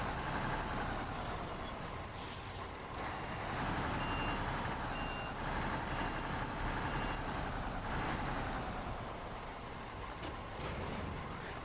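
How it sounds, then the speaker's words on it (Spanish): Azov 67096 Atom truck in SnowRunner, a steady droning engine with repeated reversing beeps sounding over it throughout, loud and continuous, no talk. "el sonido del motor no se parece al Asus 6431, sino que se parece al Tatra Phoenix"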